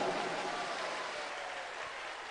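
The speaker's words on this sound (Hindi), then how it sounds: "एक बार जोरदार ताली बजाते।" Audience applause at a live Shiv Mahapuran religious discourse in Prayagraj, a dense, steady wash of clapping from a large crowd that holds at an even level for a couple of seconds with no talk over it.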